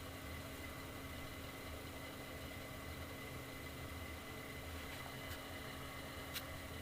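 A wood chip heating boiler starting up and feeding fuel, a faint steady low hum with a constant tone, a couple of brief clicks near the end, no voices.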